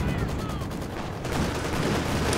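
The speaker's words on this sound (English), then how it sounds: "Axis over here also getting bombarded by mortar rounds" Mortar rounds pound Axis troops in the Company of Heroes 2 video game during a 4v4 tournament match, a steady wash of loud, dense explosions and gunfire with no pauses throughout.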